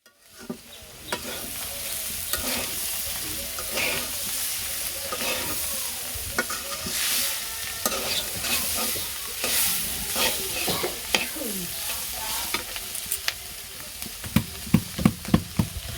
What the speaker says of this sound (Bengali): চচ্চড়ি হয়ে গেছে, মাছ ভাজা আর এই যে তরকারি।